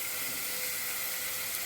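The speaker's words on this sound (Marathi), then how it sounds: "आता आपण शिजलेला पास्ता आहे ना, तो टाकूया याच्यामध्ये. सगळा पास्ता टाकते मी." Cooked pasta lands in a hot pan of spicy sauce and sets off a steady, even sizzle and hiss, close and unbroken, with no voices.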